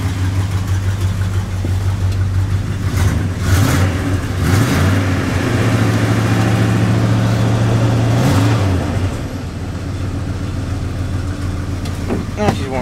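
A 1974 Dodge engine cold-starts and runs, idling loud and rough up close with a steady low drone and a few brief revs.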